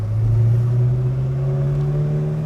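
A heavy vehicle engine drones steadily at close range, its low hum rising slightly in pitch as it rolls past without letting up.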